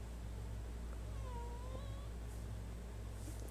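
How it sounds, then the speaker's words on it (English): A single soft cat meow, faint and a bit distant, over a steady low background hum. "That's the cat speaking to me."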